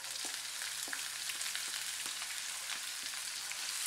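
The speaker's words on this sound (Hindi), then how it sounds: "अब इसके अंदर एक कटी हुई हरी मिर्च हम ऐड करेंगे और एक मीडियम साइज का बारीक कटा हुआ ऑनियन।" Chopped green chili and finely chopped onion frying in a pan for paneer bhurji over a medium flame, a steady soft sizzle with faint crackles, quiet and continuous with no talking.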